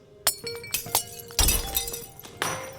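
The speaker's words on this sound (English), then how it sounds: "Ralph and Miley were oftentimes startled by the noise of glass shattering or the thud of throwing objects on the floor." Glass shattering as a sound effect in an animated horror story about a couple's fights: several sharp crashes and tinkling breaks, with a larger burst of shattering in the middle and another near the end, loud and close, without speech.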